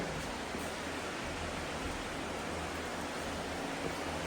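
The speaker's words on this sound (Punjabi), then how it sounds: "ਤੇਜ਼ ਮੀਂਹ ਹੈ" Heavy rain pours down steadily outdoors, a dense, even roar of water with no breaks and no voices.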